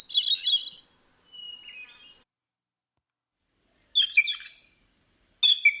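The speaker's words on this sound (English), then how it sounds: "Definitely sounds like a hermit thrush to me." A hermit thrush sings alone in quiet surroundings: four separate phrases, each a brief run of clear, fluting notes with pauses between.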